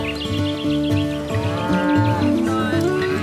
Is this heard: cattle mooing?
yes